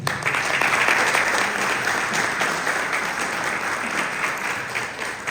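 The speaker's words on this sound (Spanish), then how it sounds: "Recibámoslo con un fuerte aplauso." A conference audience in Guanajuato greets a speaker from the automotive cluster with strong applause, a dense continuous wash of clapping from a large crowd, loud and sustained throughout.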